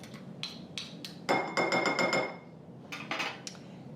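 A single metal spoon clinking and tapping against a dish while being scraped clean during sugar scrub mixing, a quick cluster of bright rapid clinks between a few scattered taps.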